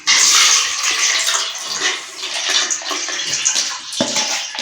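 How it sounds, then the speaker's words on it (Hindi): Water drains off soaked chana and mash dal in a kitchen, a close, continuous splashing rush that starts abruptly and keeps flowing with slight surges throughout, no talking. "सबसे पहले वीवर्स हम इन दोनों दालों का पानी ड्रेन कर देते हैं।"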